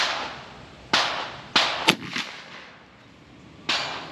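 An Airforce Texan .357 air rifle fires slugs at a 50-yard range: several sharp, loud cracks spaced irregularly over a few seconds, each fading quickly into a quiet outdoor background.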